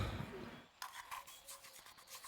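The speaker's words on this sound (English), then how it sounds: "You ever try cleaning a whole ass SNES cart with just a toothbrush?" A toothbrush scrubs a Super Nintendo game cartridge, making quick rhythmic bristly rasps in close, quiet strokes after a short burst of louder noise.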